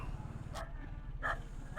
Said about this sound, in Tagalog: Nagkahulan yung mga aso nila.